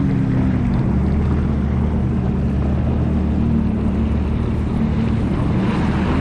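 A boat motor droning steadily on a lake near Windermere in Orlando, a loud, constant low hum with wind rushing over the microphone throughout.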